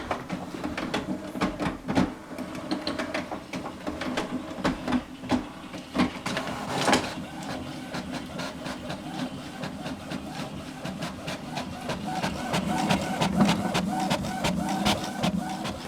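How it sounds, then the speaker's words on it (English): An HP PSC 1315 inkjet all-in-one, nearly twenty years old, prints a black and white page, its mechanism whirring and chattering continuously with rapid rhythmic clicks and carriage passes, fairly close and with no voices. "So first we'll start out by printing this black and white document here"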